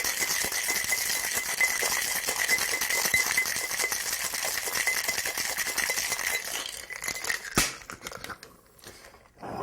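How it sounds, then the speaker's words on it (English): Espresso martini shaken hard in a cocktail shaker with ice, a steady loud rattle of ice against metal for several seconds before slowing into a few scattered clinks. "Give that a good shake."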